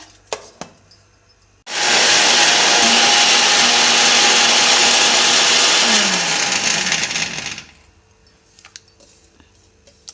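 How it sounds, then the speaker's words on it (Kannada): Mixer grinder grinding niger seeds (gurellu) into powder: a loud, steady motor whir with rattling seeds starts abruptly, runs about six seconds, then cuts off, with quiet kitchen sounds before and after. "ಮೊದಲು ಈ ಗುರಳ್ ಅಷ್ಟೇ ಪುಡಿ ಮಾಡ್ಕೋಬೇಕು ಅದಕ್ಕೆ ನಾನು ಈಗ ಮಿಕ್ಸಿ ಜಾರಿಗೆ ಹಾಕ್ತಾ ಇದ್ದೀನಿ"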